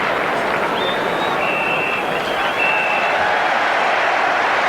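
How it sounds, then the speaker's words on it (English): Loud stadium crowd at a Manchester United versus Tottenham football match applauds at half-time, a dense, continuous wash of clapping and crowd roar with faint whistles rising above it. "Generous applause for Manchester United at half-time"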